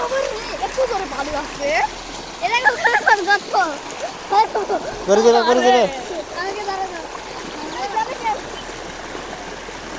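Rushing water flows steadily in the background while children's voices call out and chatter over it.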